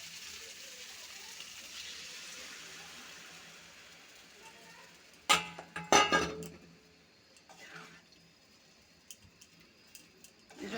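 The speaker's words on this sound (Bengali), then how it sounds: "এখন আমি পরিমাণ মতো জল দিয়ে দেব।" Water poured into a pot of fried potatoes and taro, a brief splashing burst with clinks and a sizzle, followed by faint bubbling in a quiet kitchen.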